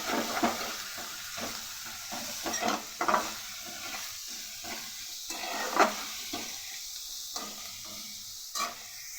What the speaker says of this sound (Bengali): পেঁয়াজটাকে ভাজবো। তার মধ্যে অল্প একটু নুন দিয়ে দেব, দিয়ে ভালো করে ভাজবো।